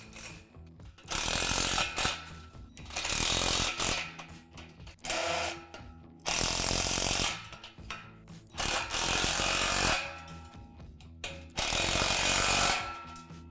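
A ratchet tightens hardware while a Lifetime Double Adventure Tower play structure is assembled, producing bursts of rapid clicking that alternate with short pauses, loud and close with no talking.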